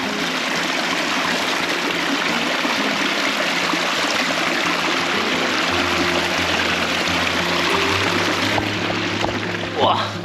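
Water of a stream rushing and trickling steadily close by along a walking trail, a continuous broad wash throughout with faint movement near the end.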